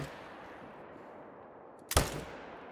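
A single sharp rifle shot at a fallow deer in a hunting video game cracks out near the end, loud and close, standing alone over a quiet outdoor ambience.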